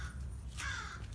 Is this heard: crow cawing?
yes